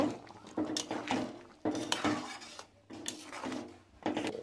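A spoon stirs mixed vegetable dal in a pot with a run of close scraping and knocking strokes against the metal, coming in uneven bursts.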